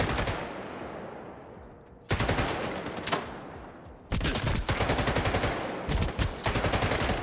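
Repeated bursts of automatic gunfire from guns in S.T.A.L.K.E.R. 2, loud and close, coming in several long rattling volleys separated by short pauses, with dense rapid shots throughout.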